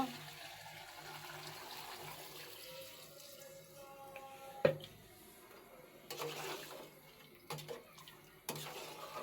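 Broth is poured into a pan of pangas fish curry, giving a faint, steady liquid trickle and splash with a few soft clinks of utensils near the end.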